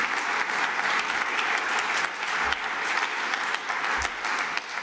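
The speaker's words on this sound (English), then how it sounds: "Jens, my applause." Steady clapping from a conference audience at the Munich Security Conference, a dense even wash of applause with a few louder individual claps standing out, no speech over it.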